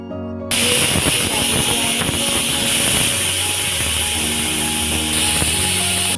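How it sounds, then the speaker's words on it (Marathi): A pressure cooker cooking matar pulao (pea rice) lets out a loud, sustained hissing whistle that starts abruptly and keeps blowing steadily without pause. "आता आपण कुकरच्या 3 शिट्ट्या करून घेऊया।"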